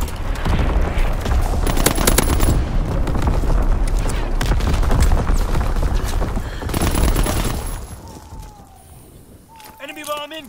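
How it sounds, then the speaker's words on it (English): Heavy rolling booms and rapid gunfire fill a Call of Duty WW2 match on the Shipment 1944 map during an enemy artillery strike. A sustained barrage rumbles loud and close, then fades near the end as voices speak. "Incoming enemy artillery! Get to cover!"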